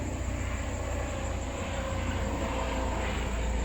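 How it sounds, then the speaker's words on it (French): A helicopter drones steadily and loudly throughout, a dense, unbroken roar of rotor and engine noise with no pauses. "Hélicoptère."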